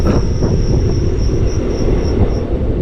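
Train rolling on the approach to Palakkad Junction railway station in Kerala, a steady loud rumble of wheels on track with a faint high squeal running throughout, no voices.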